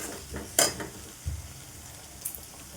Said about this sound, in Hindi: चॉप करा हुआ टमाटो और ग्रीन चिली साथ में ऐड कर दिया। तो अच्छे से फ्राई करना है।